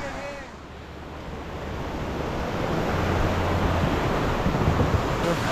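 Whitewater river rapids on the Upper Gauley, West Virginia, roar continuously with gusty wind noise buffeting the microphone, growing louder partway through; no voices.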